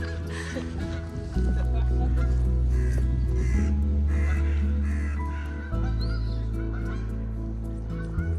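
A crow caws in short, loud calls over a steady low drone in the English countryside of the Peak District in January.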